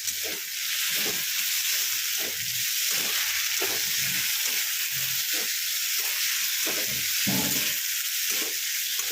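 Spices for chicken pulao frying in a pot, a loud steady sizzle close up with rhythmic stirring strokes repeating about once a second throughout.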